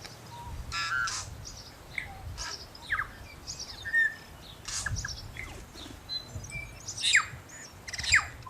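Tui and bellbirds call while feeding on flower nectar in New Zealand, a scattering of sharp chirps, whistles and clicks at close to moderate distance over a quiet outdoor background.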